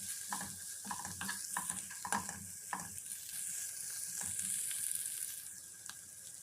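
Beef with chili, pepper and cumin powder frying in a pan, close sizzling with scattered scrapes and knocks of stirring, alone with no talk.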